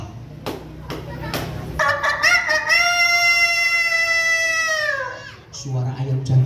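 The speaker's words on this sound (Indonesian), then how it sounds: "suara ayam jago berkokok" A rooster crows at dawn beside the call to the dawn prayer. It gives one long, rising, strained crow that lasts a few seconds and is fairly close and loud over a low background hum, with short noises before and after.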